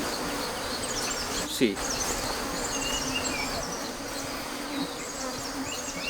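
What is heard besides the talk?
honey bees buzzing at a beehive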